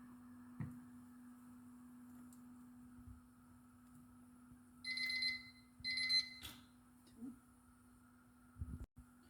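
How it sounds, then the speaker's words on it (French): A kitchen timer set for four minutes while cooking pasta beeps in two short clusters of high electronic ringing, with faint kitchen knocks and a low mains hum around it. "vous mettez votre minuterie pour 4 minutes"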